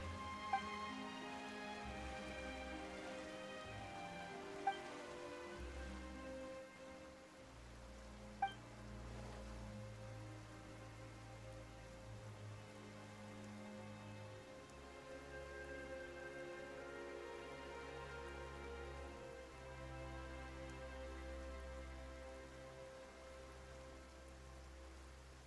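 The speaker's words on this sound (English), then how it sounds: "Why is it raining all of a sudden?" Steady rain patters in a Genshin Impact game scene, a soft, even wash of falling drops that runs unbroken throughout, heard faintly under game music.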